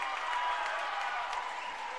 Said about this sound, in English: That'll get the Lyman fans up off their feet cheering